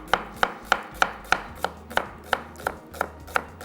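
An onion being sliced with a knife on a board, about eleven crisp, evenly spaced cuts in a steady rhythm, close and clear with no talking.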